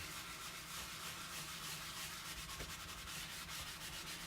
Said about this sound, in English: it doesn't take a lot of elbow grease using this eraser